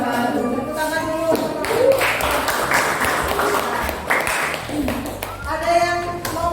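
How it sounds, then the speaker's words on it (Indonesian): A classroom breaks into a burst of clapping from a group of students, with voices speaking just before and after the applause. "Tepuk tangan dulu."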